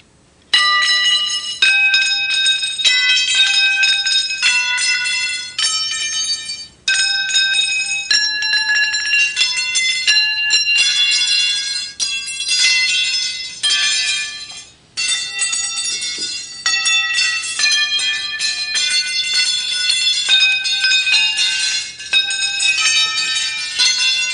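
Metal rods of a sound sculpture ring out Auld Lang Syne as a bright, bell-like melody, each struck note sustaining and overlapping the next in a steady tune, loud and close with no talk.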